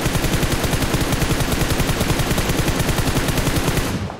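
Rapid, sustained automatic gunfire rattles continuously in a loud, even burst in PUBG Mobile, stopping at the end.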